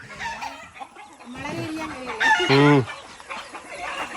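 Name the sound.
chickens clucking and rooster crowing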